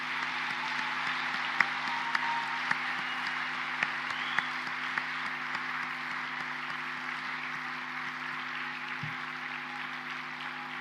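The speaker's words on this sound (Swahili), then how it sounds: "tupige makofi mengi sana kuonyesha kwamba tunampenda sana Mheshimiwa Rais" An audience applauds President Samia in a large gathering, a dense, sustained wash of many hands clapping for about ten seconds, fairly soft and distant, with a few sharper individual claps standing out.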